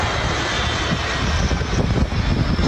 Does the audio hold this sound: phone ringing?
no